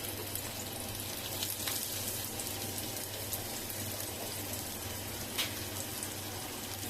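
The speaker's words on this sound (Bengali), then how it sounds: "পেঁয়াজগুলো ভালো করে পেঁয়াজগুলো ভেজে নিব, লাল লাল করে ভাজবো" Chopped onions frying in hot oil in a pan, in a Bengali home kitchen where prawns were fried earlier, give a steady, close crackling sizzle that lasts throughout over a low hum.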